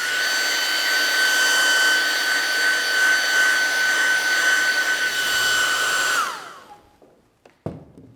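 A hair dryer drying a watercolor painting. It gives a loud, steady whirring roar for about six seconds, then switches off and winds down, followed by a soft knock.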